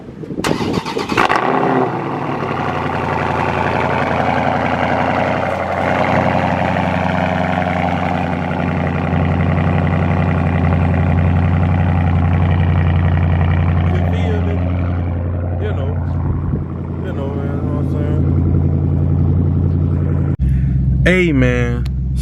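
A 2020 Dodge Charger 392 Scat Pack cold-starts with a sharp crank and roar close by. A loud, deep, steady idle rumble follows for about twenty seconds, then the sound shifts abruptly near the end.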